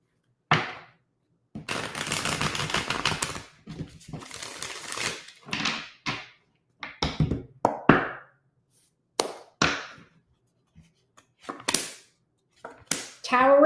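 Quick bursts of tarot cards being shuffled, a long riffle followed by several short snappy flicks and taps, close and fairly loud, with pauses between.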